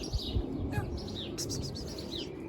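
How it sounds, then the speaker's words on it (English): Small birds chirp and tweet in an organic fruit and vegetable garden, quick high calls scattered over a low, steady outdoor background. A white pigeon is on a nearby roof, though any cooing is faint at best. "Nice white pigeon there on the roof."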